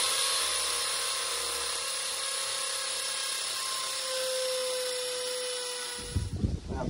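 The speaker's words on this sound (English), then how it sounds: "Now we gotta drill our holes for the screws." A power drill bores screw holes for an outdoor basement-stair safety handrail, giving a steady, fairly loud whine that holds for about six seconds before cutting off into brief handling clatter.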